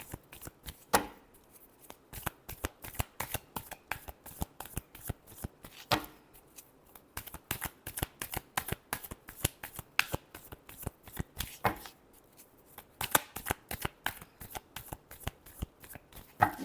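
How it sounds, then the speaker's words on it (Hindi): A deck of cards being shuffled repeatedly for a tarot-style reading, crisp riffling and snapping card flicks in rapid close bursts with brief pauses between rounds, no talking. "Last shuffle."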